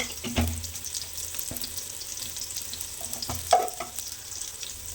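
Onion with turmeric frying in a pan for mutton kemma, a soft steady sizzle broken by a few sharp clinks and scrapes of stirring, close and fairly quiet, no voices.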